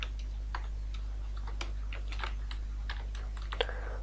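Computer keyboard typing while writing Java code, a run of light, irregular key clicks over a low steady hum, no talking.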